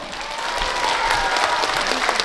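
Loud crowd applause with cheering fills a Korean book-launch talk show event, steady and dense throughout, with whoops rising over the clapping.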